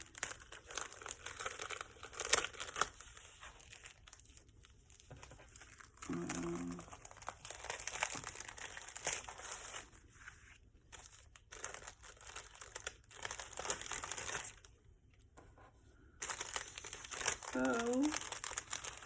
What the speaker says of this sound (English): So let me make sure I get everything out of the envelope.